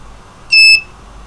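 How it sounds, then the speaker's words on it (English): A buzzer on an ESP32 test setup gives one short, loud, shrill electronic beep lasting about a quarter second, alone against a quiet background. "that's the buzzer"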